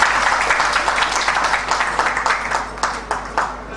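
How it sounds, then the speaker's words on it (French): An audience at a health caravan association presentation claps for the association's honorary president. The close, irregular clapping is loud at first and thins into scattered individual claps. "à qui je vous demande d'applaudir"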